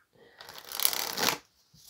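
Tarot cards being shuffled by hand in a single brisk riffling burst of papery flutter lasting about a second, close and clear, with quiet pauses before and after.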